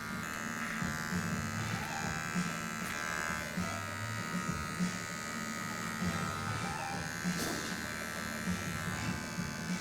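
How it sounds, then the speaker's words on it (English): Electric hair clippers buzz continuously in a clipper-over-comb cut on a scruffy man's hair, a steady close whine with slight shifts in pitch as they move, and a voice talks faintly beneath. "So when I'm doing this clipper over comb"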